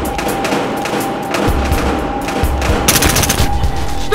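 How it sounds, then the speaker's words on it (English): Gunfire in the video game Battlefield Hardline, rapid automatic bursts and heavy thumps layered over constant in-game noise, loud and continuous throughout. "reporting gunfire downtown, Elmar Hotel"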